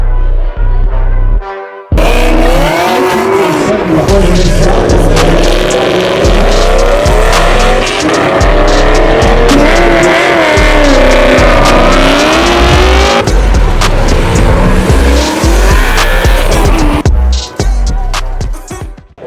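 Drift cars at a Los Angeles car event, loud and close, with engines revving and tires squealing through sustained, unbroken slides for nearly the whole stretch after a brief opening pause.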